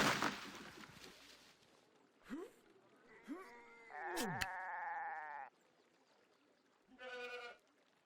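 Goats bleating in the city-building video game CivCity Rome: after a brief noisy burst, several separate wavering bleats follow one another at moderate volume, with a gap before a final shorter bleat.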